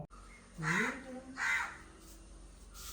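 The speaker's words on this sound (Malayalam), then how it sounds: "കാക്കേനെ കാണാണോ" A crow caws twice in quick succession, fairly close and distinct, with a fainter third call near the end over quiet outdoor background.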